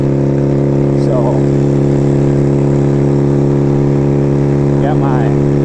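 A motorcycle engine hums with a steady, loud droning tone close by, with brief rising revs near the start and again toward the end.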